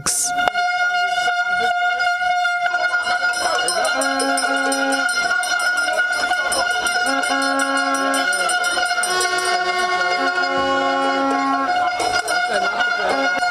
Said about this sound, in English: The drums were rolling and horns honking despite the inclement weather